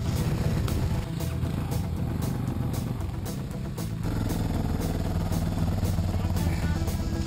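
A DRZ 400 enduro motorcycle rides through wet, sloppy terrain, its engine droning loud and steady throughout with rough low rumble, splashing and clatter, a brief dip and change near the middle.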